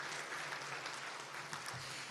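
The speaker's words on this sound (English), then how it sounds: "give yourselves a big round of applause for a great 2023" A faint, steady patter of audience applause at a business luncheon, brief and unbroken with no voices over it.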